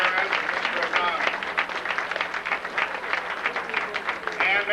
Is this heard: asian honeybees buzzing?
no